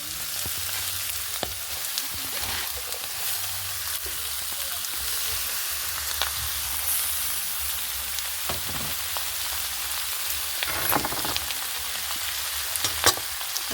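Boiled cabbage sautéing in a pan alongside dried fish, a steady broadband sizzle with occasional scraping stirs and small crackles, close and continuous with no talking.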